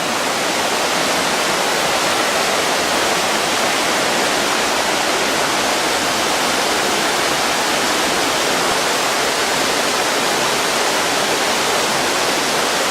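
A river with reddish water flows past a campsite by a motorhome, a dense, steady rushing wash without breaks that stays loud throughout.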